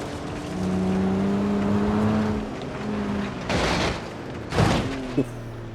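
An off-road car revs in BeamNG.drive through a sustained engine drone, followed by two loud bursts of roaring acceleration and a sharp knock near the end.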